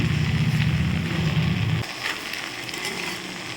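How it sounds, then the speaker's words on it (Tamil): Salt and sundakkai (turkey berry) chutney ingredients sautéing in a pan give a steady, soft sizzling hiss, with a low droning hum during the first couple of seconds that then drops away. "நம்ம கொஞ்சமாக உப்பு சேர்த்துக்கலாம் சேர்த்து அதையும் நல்லா வதக்கிக்கலாம்"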